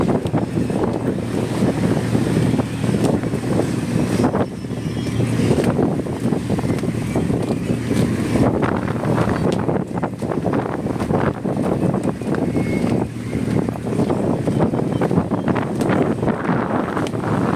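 Steady wind buffets the microphone outdoors near the water, probably aboard a boat, a loud continuous rushing roar with gusty low rumble and no talking.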